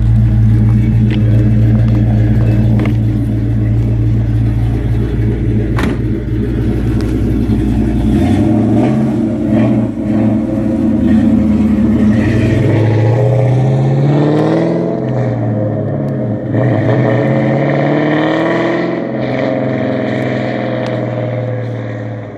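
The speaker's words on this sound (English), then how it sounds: "Mustang sound good." 1999 Ford Mustang Cobra engine idling with a deep, steady rumble, then revving up and down through several throttle blips before settling, heard close with no talk.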